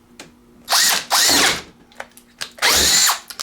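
A Teccpo 12-inch brushed cordless drill runs a 1-inch bit into wood in three loud bursts, each one winding up and then bogging down, separated by short pauses and faint clicks.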